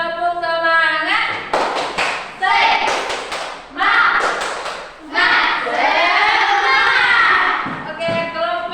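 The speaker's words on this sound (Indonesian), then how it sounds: "semuanya tepuk semangat" A group of Indonesian teachers in a PPG Daljab training class at UNIMED doing the tepuk semangat spirit clap: rhythmic bursts of clapping and thumps, mixed with loud chanting voices and shouts of children or adults throughout.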